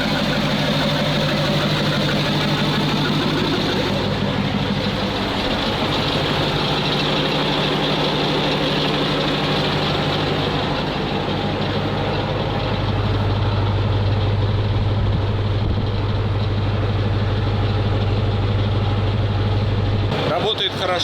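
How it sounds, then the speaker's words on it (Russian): An old ZIL truck engine runs with no air filter fitted and idles with a loud, steady, deep rumble. It stays close and constant throughout, with a brief louder rise near the end, and someone speaks over it at times. "Без воздушного фильтра он бубнит, такой звук некрасивый, а так будет шептать."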